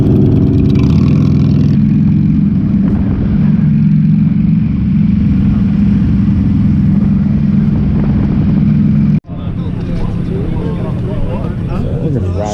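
A 2000 Harley-Davidson Road King runs with a steady, low engine rumble close by, a brief cut near the end, then the rumble returns. Voices talk over the engine.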